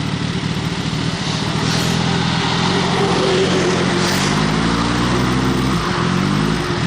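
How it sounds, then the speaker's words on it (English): A Kawasaki ZX-14R motorcycle engine, still warming up, runs loudly and steadily, its pitch climbing and dropping as the throttle sweeps up through the revs, with no talking. "So let's hear the rev range."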